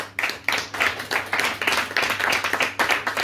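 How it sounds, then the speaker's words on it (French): An audience at a literary conference applauds the authors, a dense, steady burst of many hands clapping at close range that fills the whole moment without any talk. "Merci à tous les 3, vous pouvez les applaudir."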